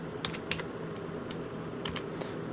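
Login details being typed on a computer keyboard: a few distinct key clicks and clacks over a steady background hum, close by and fairly soft, with no one speaking.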